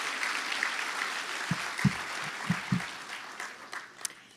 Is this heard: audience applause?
yes